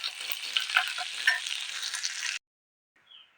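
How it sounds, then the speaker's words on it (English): Calamari rings fry in hot oil with crushed garlic and ginger, a dense, steady sizzle with crackling pops that cuts off abruptly, followed by a brief faint rustle. "I just warmed my oil, guys, and then and I put some garlic granules, actually crushed garlic and ginger"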